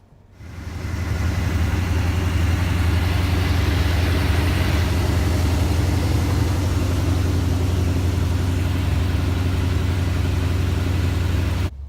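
A 1972 Dodge D100 pickup with a stock small block 318 V8 and two-barrel carburetor runs steadily, a loud, even low rumble that holds for about ten seconds before cutting off.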